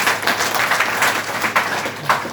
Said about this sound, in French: que je demande aussi de l'applaudir très fort